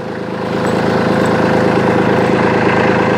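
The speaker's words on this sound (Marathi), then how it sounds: "आपण ट्रॅक्टर चावीवर चालू आणि चावीवर बंद करू शकतो" A Kubota B2741 tractor's diesel engine idles close up, a loud, steady low rumble with an even mechanical clatter and vibration that holds constant throughout, no talk.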